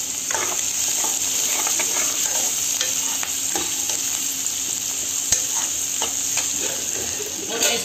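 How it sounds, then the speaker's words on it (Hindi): Peas and paneer bhurji fry in a pan with a continuous, loud, close sizzle, broken by scattered light scraping clicks as a utensil stirs the mixture. "और यहाँ पर आप देख सकते हो मटर भून गए हैं अच्छे से।"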